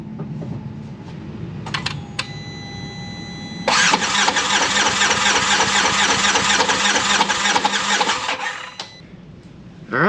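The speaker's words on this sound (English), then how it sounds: "We just want to make sure the starter's functioning properly" A Polaris Ranger 900's engine is cranked by its starter after a starter replacement, loud and close. A few short clicks come first, then a steady, rapid whirring crank of about five seconds that cuts off.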